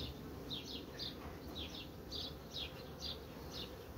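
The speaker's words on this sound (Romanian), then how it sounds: "Iată, albinele atacă." Honeybees buzz in quick, faint, darting passes while a beekeeper works an open hive and the defensive bees attack. The buzzing sits over a low, steady background rumble, with no voices.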